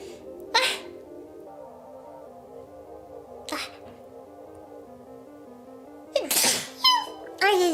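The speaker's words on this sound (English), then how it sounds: "Oh no, I need to sneeze." Two short sneezes burst out sharply, close and loud, after a couple of smaller sniffs and breathy sounds, with a steady low hum underneath.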